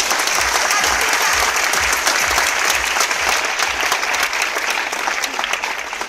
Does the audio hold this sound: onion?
no